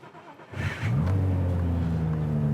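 An R32 GT-R with an RD28/RB26 hybrid engine cranks briefly, then catches and settles into a loud, deep, steady idle close by, the rumble holding for the rest of the moment.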